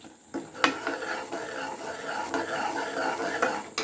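Coconut burfi mixture is stirred continuously in a pan over high heat, with steady scraping and occasional sharp clinks of the spoon against the metal.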